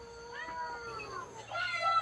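Cats kept at a Thai temple meow in a short run of two or three rising, wavering calls, close and moderately loud over a soft steady background hum.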